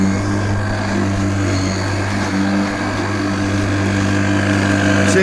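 A battery lawnmower with a 40 cm cut runs through short grass, giving a steady, close, droning motor whine with strong harmonic hum and no voices.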